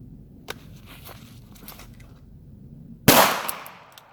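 A single sharp, loud revolver shot from a Smith & Wesson K-frame Model 66, fired from the draw at a target's head on a shooting range. A ringing echo follows, and soft handling clicks come before it.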